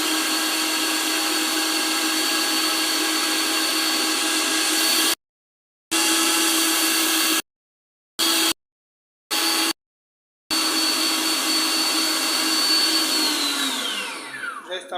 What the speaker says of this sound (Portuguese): vamos bater 5 ovos com 125 gramas de açúcar